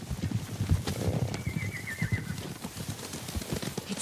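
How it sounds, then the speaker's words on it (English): Horses approach in the video game Ghost of Tsushima, with soft hoof clip-clops, a brief neigh and birdsong over a quiet outdoor background, fairly distant and without talk. "Horses, they're coming for us."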